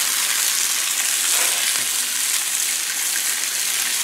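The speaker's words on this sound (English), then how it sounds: "we got a sizzle anyway" Steady, loud sizzling of potatoes frying on a hot Blackstone griddle, a continuous hiss without pause.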